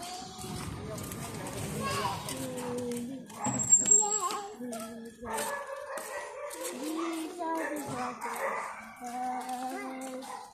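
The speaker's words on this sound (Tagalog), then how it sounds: "Uy, JJ, may aso dyan" A dog barks and whimpers outdoors on a windy day, its yelps mixed in with overlapping chatter and talk from several people nearby.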